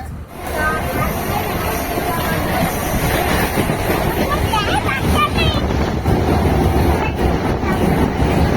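Train running on the line toward Shalimar station near Kolkata, a loud steady rumble with heavy wind buffeting across the whole stretch and faint squeals and clatter rising midway.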